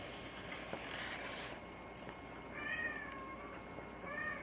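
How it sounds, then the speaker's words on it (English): A cat meows twice, faint and somewhat distant, over a quiet background hiss. "the cat is meowing"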